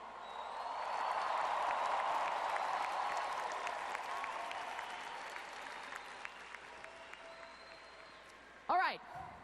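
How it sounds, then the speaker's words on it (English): A convention panel audience applauds Wonder Woman cosplayers, a broad crowd wash that swells early and then slowly fades, with a short burst of cheering near the end. "Please give a big CCXP round of applause for our Wonder Woman cosplayers"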